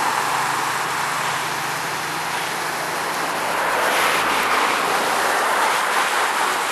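Steady broadband rushing of the Jeleśnia river flowing in Orava, Slovakia, continuous and fairly loud, with a faint low rumble underneath and no voices.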